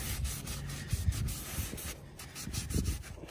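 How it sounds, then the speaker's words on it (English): A shop cloth damp with alcohol rubs back and forth over a Porsche Boxster 986 wheel during prep for paint, a close, soft, rhythmic scrubbing with brief pauses and no talk. "rubbing all of the surfaces down really well that are gonna be painted"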